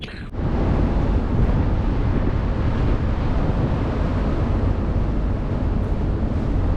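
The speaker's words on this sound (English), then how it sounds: "It's a windy day." Strong, steady wind buffets the microphone on Don Sak Pier, a loud continuous low roar that persists throughout with no clear breaks.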